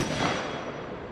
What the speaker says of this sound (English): I'm gonna shoot it a little bit more since I adjusted the sight and see if I can be any better at it